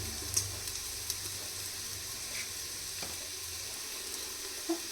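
Spices frying in oil for green moong dal khichdi, a faint steady sizzle with a few soft clinks of stirring, close by and without talk.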